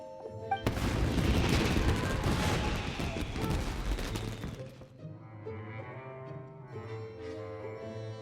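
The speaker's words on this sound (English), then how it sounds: "The fireworks were enough to distract them." Fireworks burst in the video game Genshin Impact, a dense, loud crackling barrage of booms lasting several seconds, then fading into tonal game music.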